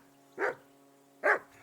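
In the video game Kingdom Come: Deliverance 2, a dog called Mutt gives two loud, close barks, nearly a second apart, over a faint, steady background hum.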